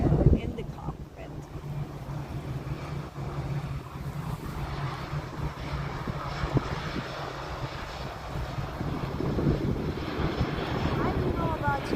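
EasyJet airliner arriving on the Polderbaan at Amsterdam Schiphol Airport, a steady engine roar heard from outdoors with wind buffeting the microphone and a voice talking partway through.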